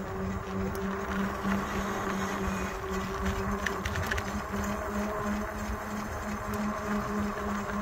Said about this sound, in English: Now the woozing noise you're hearing is because the fat wheels on the pavement here.